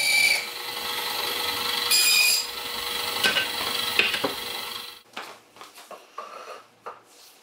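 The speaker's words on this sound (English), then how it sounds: "I get to do some more planing and some more bandsaw work and" Bandsaw ripping wooden wagon wheel spokes, a high whining cut running for about five seconds before the blade frees, followed by softer knocks and shuffling of wood.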